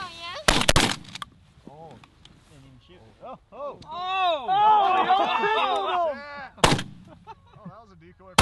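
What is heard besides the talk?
gunshots while hunting geese and ducks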